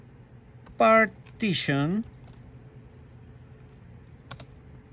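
Computer keyboard keys click quietly as a command is typed on a Windows 10 computer to delete a disk partition. The taps are faint and sparse, and someone speaks briefly over them.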